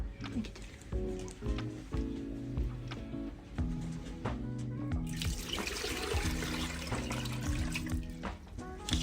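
Water runs steadily into a pot to boil quiote, a continuous close splashing and trickling with music playing underneath.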